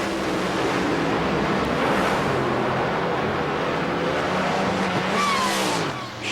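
A Parts America top fuel dragster at the 1998 NHRA Autolite Nationals skids backwards down the drag strip after losing its engine and tires. A loud, steady broadband roar runs throughout and dips briefly near the end.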